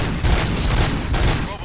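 Gunfire from the RoboCop Rogue City video game: a dense, loud burst of shots rattling continuously for under two seconds, with no clear talk over it.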